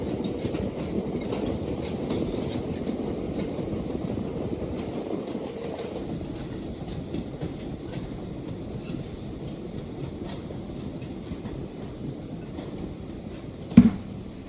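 A train rolls steadily in Minecraft's Immersive Railroading mod, a continuous low rumble with faint rhythmic clatter and a brief sharp squeal near the end.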